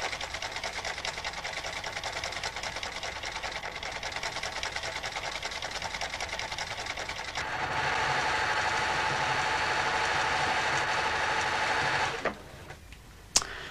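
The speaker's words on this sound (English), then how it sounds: "If I change to a different stitch, the cam follower moves, and you can see it moving to a different rhythm." A sewing machine runs steadily with a fast mechanical chatter, its rhythm shifting louder and denser midway as the cam-driven stitch pattern changes, then slowing and stopping near the end.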